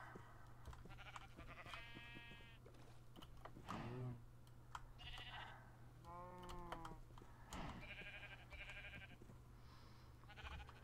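Sheep in the Minecraft video game bleat several times in short wavering calls, spaced a couple of seconds apart, over a steady low hum and quick clicking of computer keyboard typing.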